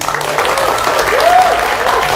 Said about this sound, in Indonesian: Tepuk tangan yang lebih meriah lagi.